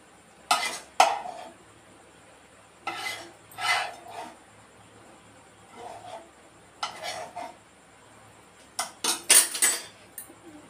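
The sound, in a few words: mixing seasoning into semiya (vermicelli) pulihora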